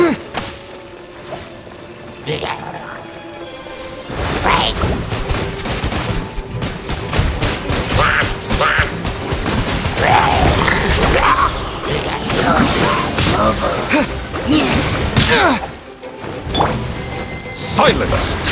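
Repeated bomb blasts in Genshin Impact's Fontaine Archon Quest, a dense barrage of loud thuds and crashing impacts piling up for several seconds, with a voice speaking over the chaos.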